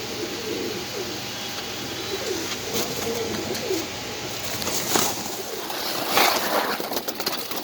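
American Lark pigeons coo in low, repeated rolling calls at a pigeon farm, close by, with a few wing flaps and faint chirps from other birds.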